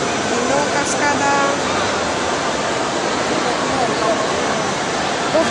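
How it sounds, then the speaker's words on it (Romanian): An indoor waterfall in a Bucharest shopping mall pours with a steady, dense rush that fills the space, with the murmur of crowd voices mixed underneath. "Din nou cascada."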